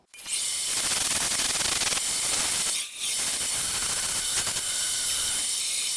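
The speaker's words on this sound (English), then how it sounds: "So I'm gonna take it to the grinder. We're just gonna grind that off." A grinder cuts away the plastic ring on a Suzuki DR650 motorcycle handlebar, making a loud, steady, close-up hiss-like grind that runs almost without a break, with one brief dip near the middle.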